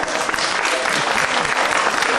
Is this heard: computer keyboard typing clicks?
no